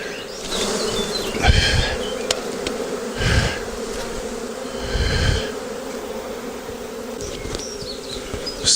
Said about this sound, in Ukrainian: Зараз ще там жменька бджіл перелетить з пастки і на цьому кінець.